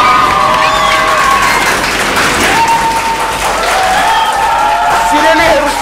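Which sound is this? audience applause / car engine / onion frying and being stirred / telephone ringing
audience applause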